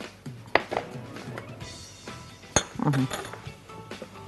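A utensil clinks and scrapes against a bowl as a cake batter is vigorously stirred in a home kitchen, with a few sharp knocks at irregular intervals and a voice speaking faintly.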